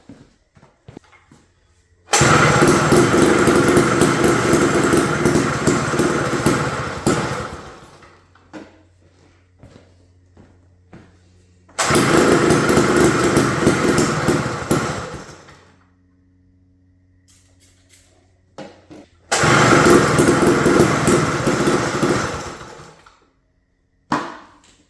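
A restored 1950s vintage backyard-built mini bike engine runs in three loud, sustained bursts of several seconds each, with quieter gaps of idle or silence between them and no talk.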